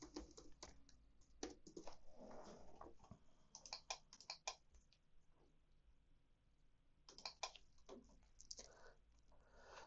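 A password is typed on a computer keyboard while a TP-Link Archer Air R5 router is being set up: irregular bursts of close, crisp key clicks with short pauses between them, and no talking.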